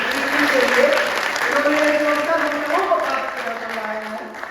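A live audience at an Indian poetry gathering in Abu Dhabi claps steadily for several seconds, a dense, fairly loud wash of applause with a voice carrying over it.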